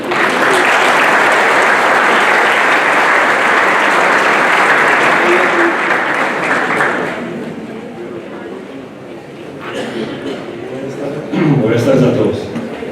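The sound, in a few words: audience applause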